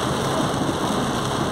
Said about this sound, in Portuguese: Muita chuva.